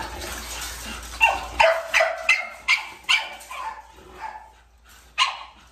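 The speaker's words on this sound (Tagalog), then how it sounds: "yun yung pinakaunang aso ni Nathan" American Bully dog barking at a kennel, a series of about eight sharp, loud barks in uneven bursts close by, with faint background noise and no talking.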